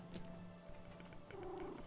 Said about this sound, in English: Look, Mona, a kitty cat, and I'm petting it, just like I'm petting you.